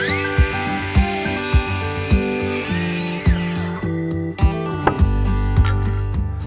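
A power saw cuts treated pine timber for a raised vegetable garden, whining loudly as a motor with repeated sharp knocks and bursts at a steady rhythm, then the pitch drops and the motor winds down near the end.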